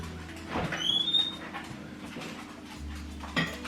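A dog whimpers and pants softly nearby, with a faint clink of dishes in a quiet room.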